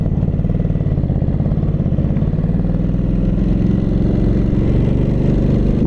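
A 2022 Ducati Supersport 950 motorcycle engine runs loud and close, its steady throbbing idle building into a rising rev as the bike pulls away, with no talk over it.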